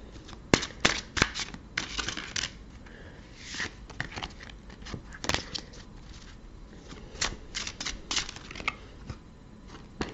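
Tarot cards are shuffled and drawn during a reading, a quiet run of soft papery flicks and sharp snapping clicks arriving in uneven bursts, close by and with no talking.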